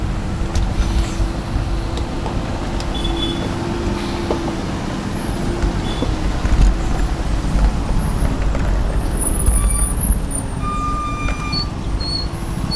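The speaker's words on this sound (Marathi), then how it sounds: "तर पुढून हा मोठा ट्रक आला" A large truck labours up a hill on a road, its heavy engine droning steadily and close with low rumble throughout, faint hisses and traffic noise mixed in.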